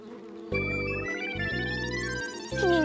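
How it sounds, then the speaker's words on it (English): A cartoon bee buzzes over flowers in a steady, close drone that shifts in pitch, heard alone against a light musical background. "that bee buzzing over all the flowers"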